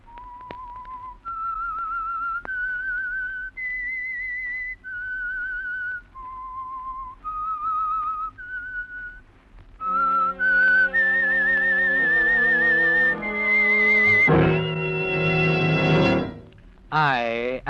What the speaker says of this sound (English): That whistle is your signal for the Signal Oil Program